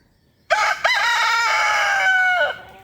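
A rooster crows once, loud and close, a long strained cock-a-doodle-doo lasting about two seconds that breaks and trails off, with no voices around it.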